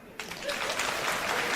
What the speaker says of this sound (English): clap if you would break up with them